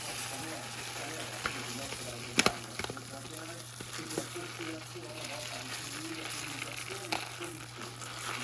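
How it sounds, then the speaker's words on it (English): Rice toasts in olive oil and butter in a pan for a risotto with pancetta, putting out a steady, close sizzle with occasional stirring scrapes and one sharp clatter partway through. "We need to toast the rice with the olive oil and butter before we add the pancetta."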